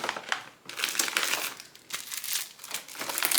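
A sheet of payday planner stickers being handled, crinkling and rustling up close in quick bursts for a few seconds, with no voice.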